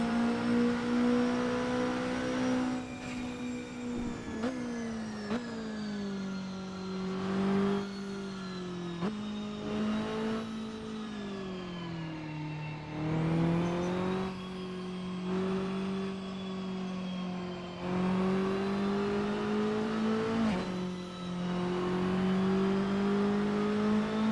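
Saleen S1 GT4 engine driven around Reservoir Chicane in Assetto Corsa, a continuous loud drone rising and falling with throttle and gear shifts across a full lap, no talk.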